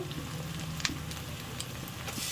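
Grated tomatoes and turmeric powder sizzling in hot oil in a pan while cooking a jackfruit dish, a steady soft hiss and crackle with a few small pops, close and low in level, with no talk.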